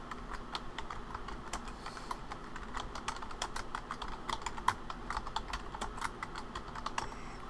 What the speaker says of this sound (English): I'm going to type visit Cotek SharePoint store.